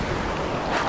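Stormy sea surf surges against a breakwater in Sochi during a fierce storm, a loud continuous wash of churning water with gusty wind buffeting the microphone.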